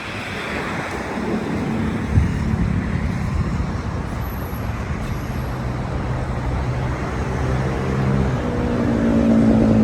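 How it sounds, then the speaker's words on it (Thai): Strong wind roars without a break across the microphone outdoors, with a low, surf-like rush that builds slightly toward the end. "มีลมแรง"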